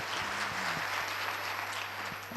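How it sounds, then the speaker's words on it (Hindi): An audience applauding in a hall at a community radio station's first anniversary function, a dense steady patter of clapping with a low electrical hum beneath. "पूरे हॉल में वहां तक ताली बजनी चाहिए"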